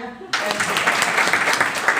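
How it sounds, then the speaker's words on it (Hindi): Applause breaks out abruptly from an audience at a training programme event in Raipur after a short quiet start, continuing as steady, fairly loud clapping to the end. "मेरे लिए भी तालियां"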